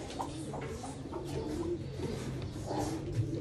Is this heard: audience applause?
no